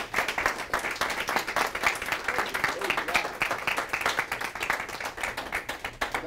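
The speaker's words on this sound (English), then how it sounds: "can we give another big round of applause?" Audience applause at a Toastmasters speech event, a steady dense patter of many hands clapping for several seconds without a break.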